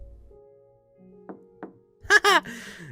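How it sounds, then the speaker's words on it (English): Two firm knocks on a door in the visual novel game The House in Fata Morgana, spaced a fraction of a second apart in a quiet scene, followed by a short spoken voice. "So, I clenched my teeth and gave the door 2 firm raps."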